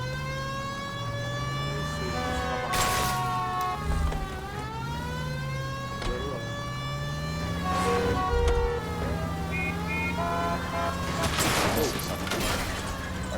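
A police car siren wails in the L.A. Noire video game, its rising and falling sweeps repeating over a steady background hum, with sharp bangs at moments.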